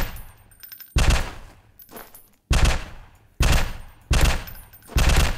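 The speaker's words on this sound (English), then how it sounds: "The power of the SMG." Loud SMG gunfire in a video game, heard as five separate sharp bursts with short gaps of quieter echoes between them.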